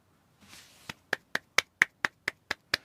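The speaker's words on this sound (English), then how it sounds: "that's the sound of me clapping, but trying not to clap too loud" Nine soft, evenly spaced hand claps ring out close by in a quiet room, each crisp and short, preceded by a faint rustle.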